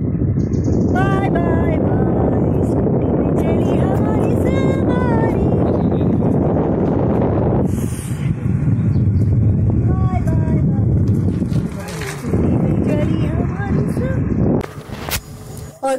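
A scooter rides along open, empty mountain roads in Uttarakhand, with loud, continuous wind buffeting and a steady engine drone throughout, while a voice or music plays over it and the sound briefly dips midway.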